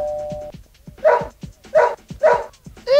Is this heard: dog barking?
yes